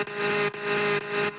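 Toad's kart engine from Mario Kart 8, a steady buzzing drone with a sustained tonal hum, pulsing in three short rising surges with brief dips between them, heard alone and fairly close.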